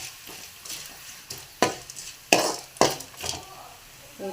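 Browned onions fry softly in a pan while a utensil scrapes and stirs in several sharp strokes, each followed by a brief sizzle, close and clear with no voices.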